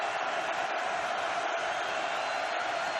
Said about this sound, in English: As the crowd makes some noise.